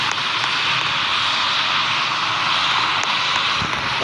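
A plane comes in to land at Greater Rockford in the PTFS flight game, a steady loud roar of aircraft engine that holds unchanged throughout, close and alone with no talk.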